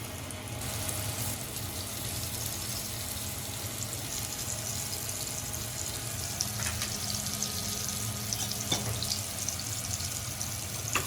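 Semolina-coated fish sizzles in a frying pan with a continuous crackling hiss, steady and close, with a few faint clinks partway through and no talking.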